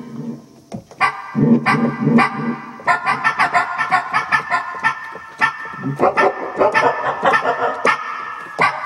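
People bark like dogs, a rapid string of loud, rhythmic woofs and yips from nearby voices imitating barking.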